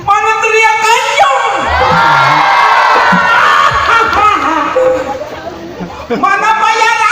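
A crowd at a Sundanese comedy show shouts, whoops and cheers loudly in a sustained roar that swells and then eases off, with voices of excited audience members mixed through it.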